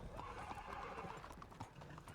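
A silver-tailed buckskin horse in a western-themed multiplayer game clip-clops along with steady hoofbeats, close and moderately loud, with a brief whinny and faint voices in the background.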